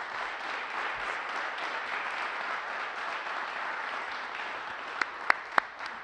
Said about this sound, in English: Give Leader Gordon Booth another round of applause,